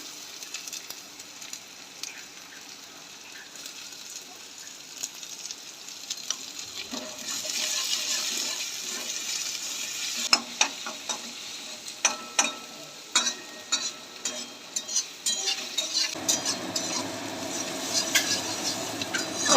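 Chopped garlic and onion fry in a pan with a soft sizzle that grows louder partway through. Intermittent scraping and clinking come from a utensil stirring them, with sharper knocks toward the end.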